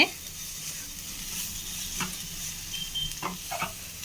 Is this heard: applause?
no